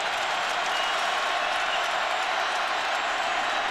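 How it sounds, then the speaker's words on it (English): A football stadium crowd at a Big XII Championship game between Oklahoma and Nebraska rises and cheers, a steady, dense roar of applause and shouting that stays loud throughout with no break. "the crowd coming to its feet"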